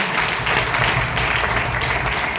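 Audience applause at a business event in Ranchi, dense steady clapping from a large crowd filling the whole stretch, loud and close.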